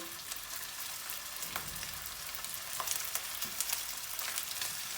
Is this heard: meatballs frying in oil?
yes